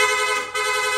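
A loud, piercing Piaa dual horn on a Honda ADV160 motorcycle sounds up close in rapid mode, blaring steadily with one brief dip partway through.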